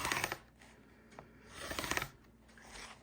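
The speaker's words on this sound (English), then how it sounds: "I am trimming them down into thin pieces." Scissors cut scrap fabric strips into thin pieces in quiet, close snipping and rasping bursts at a steady rhythm, with short pauses between cuts and no talking.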